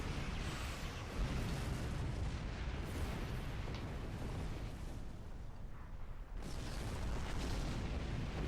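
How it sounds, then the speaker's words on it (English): Plasma torpedoes striking a planet during a space battle in Star Trek Online, a dense, continuous roar of explosions and rumbling blasts, loud and unbroken, with no voices over it. "Look at all the plasma torpedoes heading for that planet."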